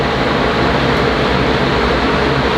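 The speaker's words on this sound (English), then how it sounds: "Sorry about the fan." A steady, even whir of an electric fan running without pause in a hot garage, broadband and fairly loud, with no voices over it.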